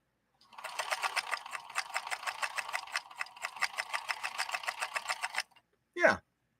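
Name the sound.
1958 Singer 222K sewing machine stitching full grain leather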